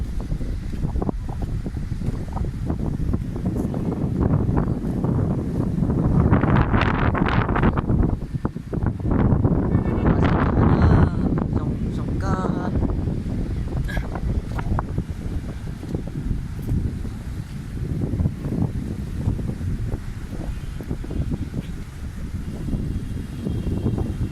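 Strong gusting wind buffeting the microphone on the Pacific Ocean coast, with a dull roar of waves underneath; loud and continuous, swelling in bursts, no speech.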